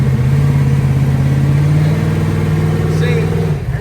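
A car engine in a race-week setting, after being tuned, runs steadily and loud with a strong sustained drone, pitch holding and rising slightly before easing off near the end.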